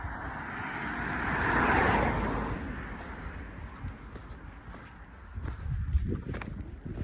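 A car on a roadside passes close by, its tyre and engine noise swelling to a peak and then fading, followed by quieter road ambience with faint rustling.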